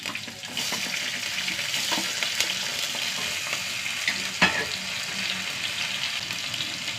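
Garlic cloves and small onions fry in a pan with a steady close sizzle, broken by a few light stirring clinks and one sharper knock, with no talking.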